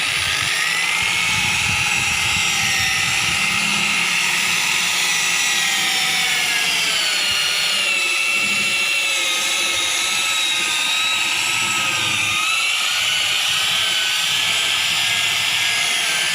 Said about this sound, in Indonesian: Untuk remove scratch di aplikasi pertama, biasakan kita pakai speed yang paling rendah dulu ya.